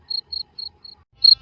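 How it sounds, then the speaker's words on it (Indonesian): Crickets chirp in a yard at night, giving five short, evenly spaced, high trills against otherwise quiet surroundings, with the last chirp slightly louder. "Suara jangkrik di halaman mengiring penghuni rumah tersebut untuk beristirahat"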